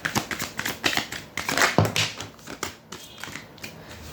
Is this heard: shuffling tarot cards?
yes